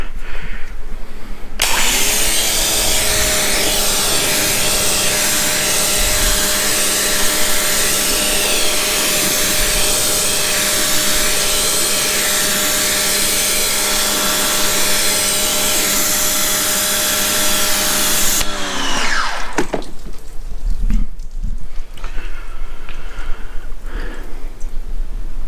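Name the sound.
rinsing a car during detailing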